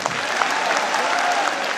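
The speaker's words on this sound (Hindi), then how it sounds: "ताली वाली बजाओ" Audience at a Hindi comedy poetry show clapping on cue, a steady, dense burst of applause that stays loud and even throughout.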